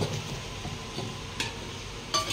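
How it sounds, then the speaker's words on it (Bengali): Marinated chicken pakora fries in a pan of oil with a steady, dense sizzle and a few soft utensil clicks on top. "ভেজে নেব"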